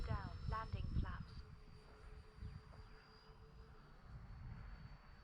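E-flite A-10 RC model jet flying at full speed with the wind, a thin distant whine of its electric ducted fans sustained under wind noise, with brief talk near the start.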